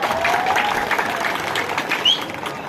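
Dense, steady clapping from a crowd, sustained throughout with a brief louder swell near the end.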